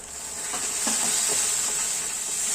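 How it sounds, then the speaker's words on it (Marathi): Gravy with homemade spicy masala being sautéed in a pan for a dhaba-style matar paneer, a steady hiss of frying with a few soft stirring scrapes, close and alone. "ग्रेव्ही छान आता परतून घ्यायची आहे"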